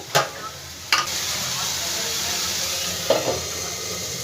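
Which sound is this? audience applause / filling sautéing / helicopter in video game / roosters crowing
filling sautéing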